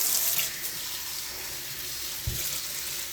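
Water runs steadily from a tap while a mannequin head is rinsed, a close, continuous splashing flow with one brief bump partway through and no voices.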